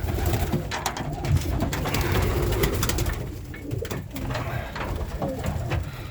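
Irish old school tumbler pigeon cocks cooing steadily in a loft, several birds overlapping in a dense, continuous murmur with occasional louder coos and wing or perch noises.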